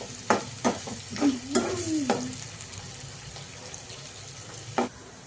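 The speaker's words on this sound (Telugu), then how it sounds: "కలర్ చేంజ్ అయ్యేదాకా వేగలిద్దాం ఆనియన్స్ ఆనియన్స్ కొంచెం బ్రౌన్ కలర్ రావాలండి" Onions fry in oil until they brown, a soft steady sizzle marked by intermittent stirring scrapes and clinks, close by but fairly quiet.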